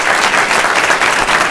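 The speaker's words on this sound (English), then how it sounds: "So give them another round of applause" Audience at a speaking contest applauding, a dense, steady burst of many hands clapping close and loud for the whole moment.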